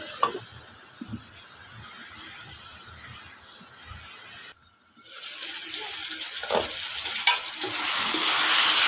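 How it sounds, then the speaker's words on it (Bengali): Masala paste fries in a covered pan for soybean dhoka dalna, a soft steady sizzle that swells much louder and brighter once the lid comes off and the paste is stirred, with occasional clinks and scrapes. "একবার আমি ঢাকাটা খুলে নেড়ে চেড়ে দেব। আবার আমি ঢাকা দিয়ে দেব।"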